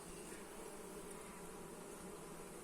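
Honey bees massed at the bottom of hive frames after the sunflower honey flow, giving off a steady, dense buzzing hum that stays even and close throughout with no voices.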